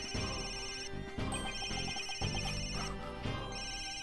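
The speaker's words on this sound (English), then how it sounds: "Where's that ringing coming from?" Telephone ringing inside the Phoenix Wright: Ace Attorney Dual Destinies video game, a steady electronic ring running the whole time over background game music, with no talk.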